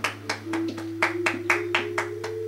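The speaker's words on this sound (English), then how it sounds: "round of applause." Game-style applause in The Testament of Sherlock Holmes: a run of about ten crisp, evenly spaced claps over a steady electronic hum and a sustained tone.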